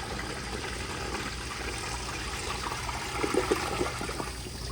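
A 1970s American Standard Baby Devoro toilet flushes with steady rushing water that runs throughout, then swells into a brief gurgling siphon near the end.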